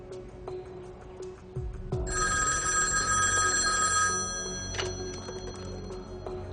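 A telephone bell rings loudly in one sustained burst, then its tone lingers and fades, with a soft clock-like ticking before it.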